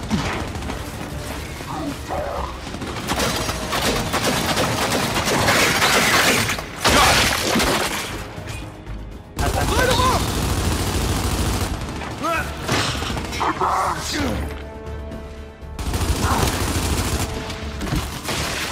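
Gunfire and combat effects in the video game Gears 5 crackle in dense, loud bursts of weapon fire and mechanical clatter, broken by short lulls, with players talking over the action.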